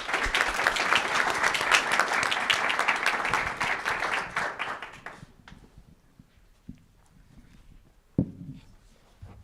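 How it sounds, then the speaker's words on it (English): An audience at a startup weekend final presentations event gives a loud, dense round of applause that fades out after about five seconds, followed by quiet room sounds with scattered footsteps and a brief thump. "please give a big round of applause"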